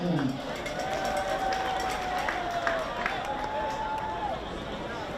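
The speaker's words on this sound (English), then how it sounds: "A big round of applause for PNCC US Free Wi-Fi access." Spectators at a baseball game between CNMI and Palau giving a round of applause, a moderate, distant wash of clapping with scattered cheers and an announcer's voice audible over it.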